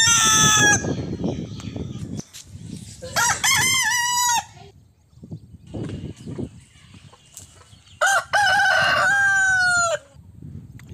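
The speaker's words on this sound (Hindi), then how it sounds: "यही है वो आवाज़ भाई ये मुर्गे की आवाज़ जंगली मुर्गा इस जंगल में है" Two loud wild junglefowl rooster crows ring out clearly, one early and one near the end, with softer clucking and bird calls in between, outdoors in open woods in Himachal Pradesh.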